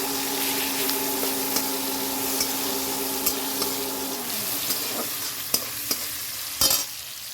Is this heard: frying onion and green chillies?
yes